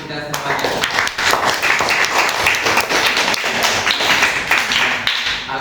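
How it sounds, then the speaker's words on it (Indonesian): A third-grade class of pupils claps hands together in a lively classroom, dense and loud rhythmic clapping that carries on steadily for several seconds. "Tepuk tangan dulu kita semuanya."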